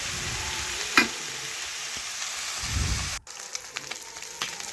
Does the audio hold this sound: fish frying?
yes